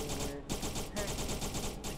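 Rapid gunfire from the video game SCP: Secret Laboratory, a dense run of repeated shots with brief gaps, loud and close, with no talking over it.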